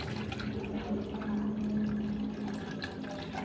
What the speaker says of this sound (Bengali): প্রথমে আমি জলটা দিয়ে নিলাম